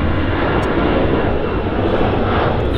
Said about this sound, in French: Oui, c'est un avion.